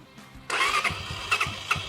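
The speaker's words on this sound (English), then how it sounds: "Then I can be able to start off the bike." A motorbike, in neutral, cranks and fires into life, a sudden loud broadband onset followed by rough mid-pitched engine running with a few short surges.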